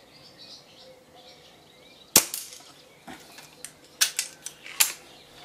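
Shots from a tuned Weihrauch HW97 air rifle fitted with a PTFE piston sleeve: a sharp, loud crack, followed by a series of lighter snaps and clicks spread over a few seconds, with no talking.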